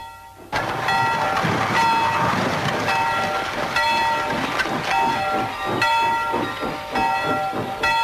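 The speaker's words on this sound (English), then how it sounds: "But then the late mail train came in." A late mail train rolls in with a loud rumble, hiss of steam and rhythmic clatter of wheels, joined by bright whistle-like tones, with no voices.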